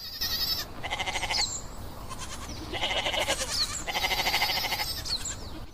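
Moroccan goats among argan trees bleat in a loud, wavering chorus of several overlapping calls over a constant outdoor background, close by and with no speech.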